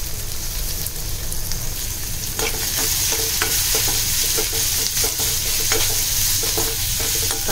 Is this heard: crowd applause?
no